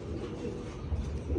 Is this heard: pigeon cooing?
yes